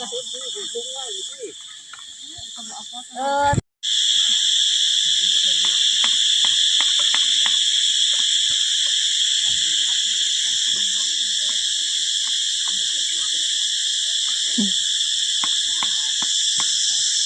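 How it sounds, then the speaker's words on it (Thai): At night, cicadas and other insects drone in a continuous, loud high-pitched chorus, with faint frog-like calls and scattered clicks underneath and brief distant voices at the start. "แมงจักจั่นห่องลายดีเนาะ"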